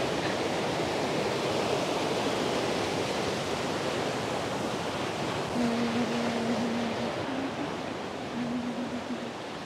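A waterfall at Plitvice Lakes, Croatia, pours beside a wooden walkway, a loud, steady broadband roar of rushing water that fills the whole stretch, with a faint hum partway through and no talk.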